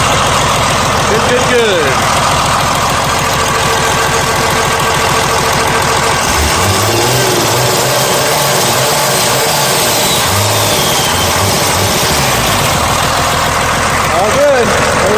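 A Cummins diesel truck engine runs close by, a loud steady idle with a couple of brief revs rising and falling; someone speaks briefly over it.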